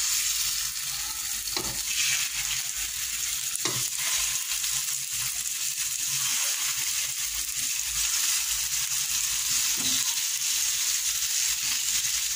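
Escalopes fry in well-heated oil for spaghetti with cheese, a loud, continuous crackling sizzle close by with occasional sharper pops, with no talking.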